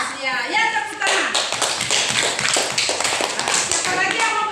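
A classroom full of children clapping together, a dense patter of hand claps with voices mixed in throughout.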